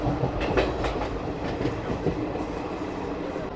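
A passenger train from Tarapith to Kolkata rolls steadily along the tracks with a rhythmic clatter of wheels and a constant rumble, loud and close, with no talking.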